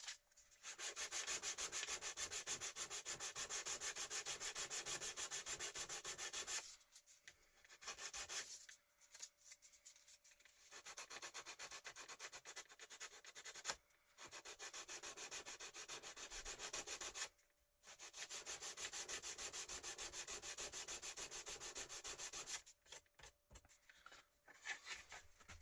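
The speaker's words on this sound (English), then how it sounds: "we'll just carry on sanding this up a bit" Sanding the case of a 1980s Realistic tuner during restoration: long, steady, raspy rubbing strokes in several bursts, with short pauses between them, close and even in loudness.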